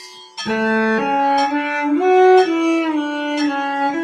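A cello plays a steady stream of even, bowed eighth notes on one string, wandering gently up and down in pitch, close and clear with no talking.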